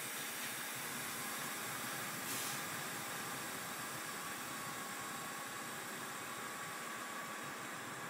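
Air hissing steadily from a truck's released brake valves during a pre-trip air brake check with the motor off, a continuous broadband rush filling the whole stretch with a brief brighter burst partway through.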